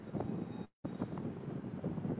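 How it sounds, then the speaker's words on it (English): BART train approaching on its track, a steady rumbling roar with windy noise, moderately loud and continuous apart from a brief dropout. "I think I hear a train coming."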